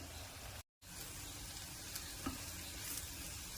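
Coriander and Kashmiri chili powder roast in oil in a pan for a chickpea curry, with a soft, steady sizzle and faint stirring, interrupted by a short gap of silence early on.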